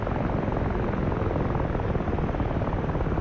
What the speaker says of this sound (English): there goes our Mi-26